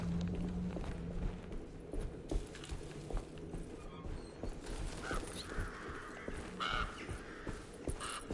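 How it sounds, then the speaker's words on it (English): A few crows caw in the Alone in the Dark remake video game. The calls sit mid-distance inside a dense, constant ambient bed with scattered soft clopping and footstep-like taps. "Fucking birds."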